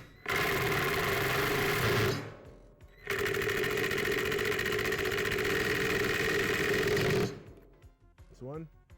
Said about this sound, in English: so we're just gonna drive this. I already drilled my pilot holes.